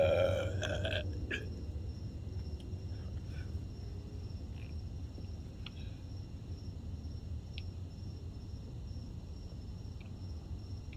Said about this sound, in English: Hold on, I got to burp again.